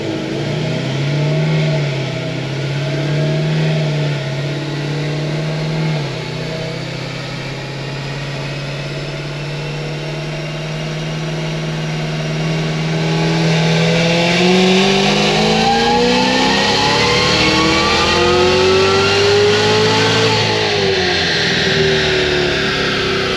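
A Cadillac CTS-V engine roars through a dyno pull, a loud, close, sustained rev climbing steadily in pitch and intensity before easing off, with no voices over it.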